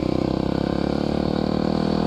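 An enduro dirt bike ridden on a street holds a steady, close, buzzing engine drone at a fairly even pitch for a couple of seconds.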